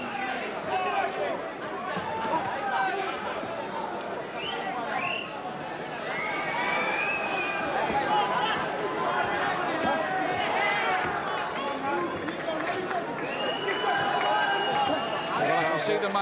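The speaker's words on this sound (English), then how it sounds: "Hamed trying to shut the boos of the crowd out of his mind" A boxing arena crowd fills the air with a loud, continuous mass of voices, booing and jeering, rising and falling as commentators speak over it.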